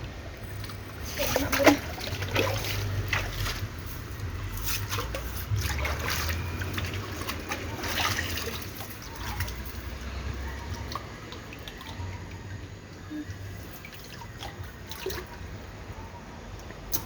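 Water surging under strong pressure from a gem-bearing spring makes a steady, close, low rushing wash with scattered trickling splashes, with no talk.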